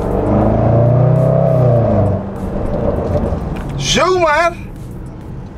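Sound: Mercedes GLE 63S engine revving

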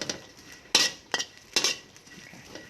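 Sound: stir-roasting shrimp paste in a pan

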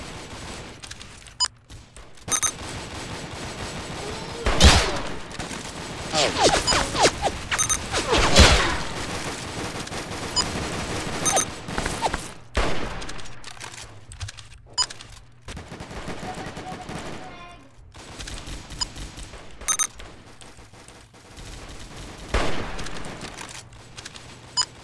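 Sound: gunfire in the Roblox video game

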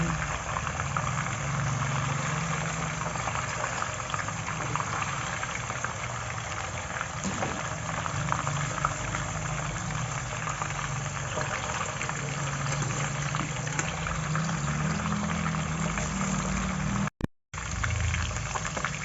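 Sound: tofu frying in oil

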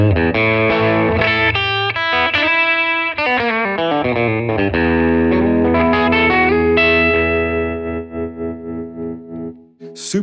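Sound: Fender Custom Shop Broadcaster electric guitar played on bridge pickup

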